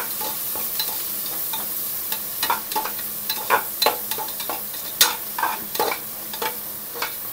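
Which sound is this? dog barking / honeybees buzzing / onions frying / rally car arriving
onions frying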